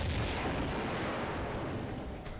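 Dense, continuous burst of rapid Uzi gunfire in Tomb Raider Remastered, loud and close, with a rumbling, booming texture that holds steady for a couple of seconds before easing off.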